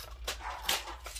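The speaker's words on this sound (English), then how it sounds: "Half the time, she doesn't even know what she's barking at." A small chihuahua indoors lets out a couple of short, sharp yappy barks, the second louder, over a quiet room with no speech.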